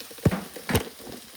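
Meat for a steak and kidney pie sizzles in a pan, browned in batches; two short, loud bursts of frying and stirring stand out over a faint, steady background crackle.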